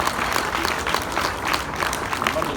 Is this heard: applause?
yes